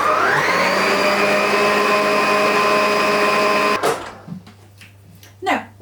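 An electric mixer beating lemon zest into lemon, raspberry and poppy seed muffin batter, a loud steady motorized whir lasting about four seconds before cutting off, followed by faint clatter.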